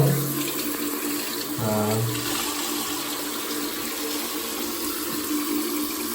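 Water runs steadily from a newly installed shower faucet after the supply is turned back on, a continuous broadband rush under strong pressure, fairly loud and close, with a brief low knock or shift midway and no talk.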